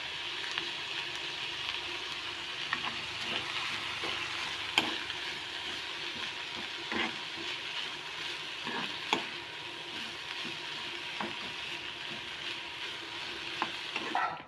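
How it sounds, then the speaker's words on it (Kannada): Curry leaves crackle and sizzle steadily in hot oil for onion chutney, with occasional sharper pops and scraping stirs from a spoon, close and continuous with no talking. "ಈಗ ಹೆಚ್ಚಿಟ್ಕೊಂಡಿರುವಂಥ ಬೇವಿನ ಸೊಪ್ಪನ್ನು ಹಾಕ್ತೀವಿ"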